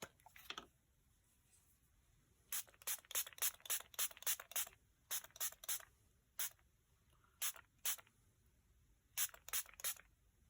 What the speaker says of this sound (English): So I'm going to go ahead and spray this and let it run